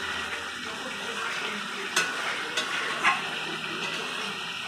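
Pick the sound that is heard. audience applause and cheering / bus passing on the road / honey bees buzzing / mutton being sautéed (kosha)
mutton being sautéed (kosha)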